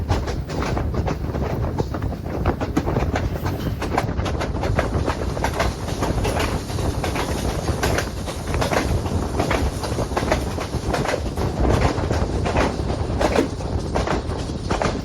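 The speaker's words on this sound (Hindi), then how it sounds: "और अब ट्रेन फिर से स्पीड पकड़ने के लिए तैयार।" Awam Express passenger train led by a Chinese ZCU-20 locomotive gathering speed between Rawalpindi and Peshawar, heard from inside with a loud continuous rumble and rapid rhythmic clickety-clack of wheels over rail joints, wind noise throughout.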